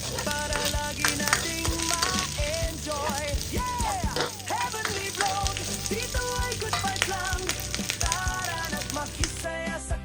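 Fried rice crackles and sizzles in a pan as breakfast cooks, a continuous busy frying hiss with sharp pops throughout, sitting beneath loud background music with singing.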